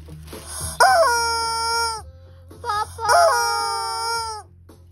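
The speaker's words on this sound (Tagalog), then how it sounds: "Tong laruan na to, etong manok na to" A toy chicken gives two loud, close electronic crowing calls, each a drawn-out cock-a-doodle-doo with a rising start and a long wavering tail, separated by a short pause.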